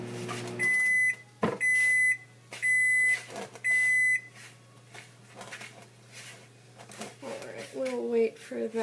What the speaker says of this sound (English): we'll microwave for 10 seconds the 2 butter sticks